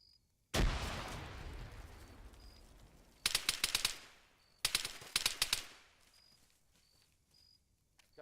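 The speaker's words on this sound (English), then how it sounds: "I'm gonna go ahead and throw a grenade up" A grenade blast in a military shooter game booms loudly and tails off into a long rumble, followed by two sharp bursts of rapid automatic gunfire, with quiet gaps in between.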